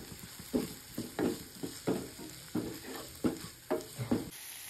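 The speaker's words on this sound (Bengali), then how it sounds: "বিনস, এখন দিচ্ছি আদা আর রসুন কুচি" Beans with chopped ginger and garlic frying in a pan, stirred in a steady rhythm of about eight scraping, sizzling strokes over a soft continuous hiss, close and moderately quiet.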